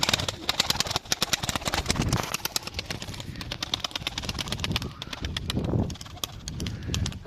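Dense flutter and scuffling of many birds in a large coop with soft cooing, a busy crowded chorus throughout, punctuated by rapid wing-like rustles and clicks.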